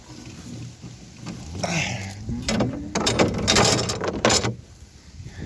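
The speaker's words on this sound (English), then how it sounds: "Pick my chain up." A metal livestock chain is lifted on a cattle farm, giving a run of clinking, rattling metal over about three seconds, fairly close and moderately loud, with no speech.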